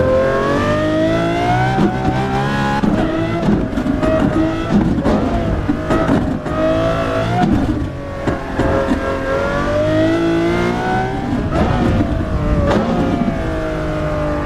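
Porsche Carrera GT engine in a racing game revving hard through repeated rising climbs and gear-change dips, loud and close, with brief lifts between pulls and a continuous high-pitched wail.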